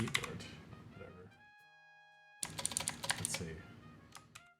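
Fast clicking of keys on a computer keyboard comes in two bursts with a short break between them, close and clear, while game music plays with sustained tones.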